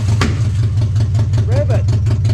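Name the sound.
F4R engine starting and revving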